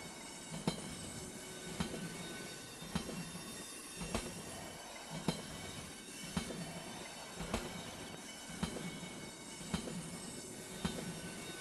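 Video-game train wagons (Train Simulator) roll along with a steady rhythmic clickety-clack, regular wheel beats about once a second over a continuous rumble and faint squeal.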